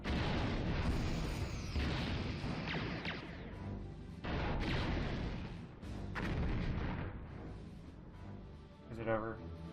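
A starship blown apart in the Star Trek Bridge Commander space combat game: a series of heavy, rumbling blasts and booms, loud and rolling, with a brief voice near the end.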